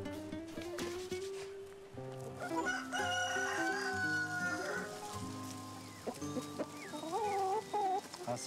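A rooster crows loudly nearby, then another crows, with crossbreed hens clucking softly in the background of a yard flock of about 50 hens and 3 roosters.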